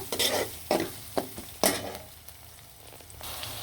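Onions fry in oil with bay leaf, cardamom and garam masala, starting with several sharp, close stirring scrapes and then settling into a soft, continuous sizzle.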